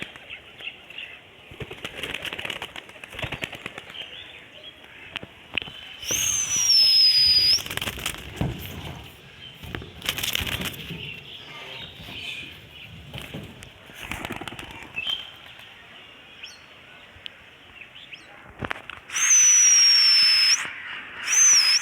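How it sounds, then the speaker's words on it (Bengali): Racer and Homa pigeons take off in bursts of flapping wings, loud whirring flutters at several moments over steady outdoor background noise, with a few sharp rustles and no talk. "তো কবুতরগুলো উড়ুক"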